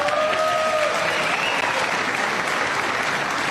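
Steady, loud applause fills a legislative chamber, a dense wash of many hands clapping continuously with no pause.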